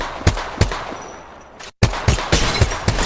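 Bursts of gunfire in Apex Legends, with rapid repeated shots near the listener, a brief lull, then several more sharp reports, with a thermite grenade just thrown during the firefight.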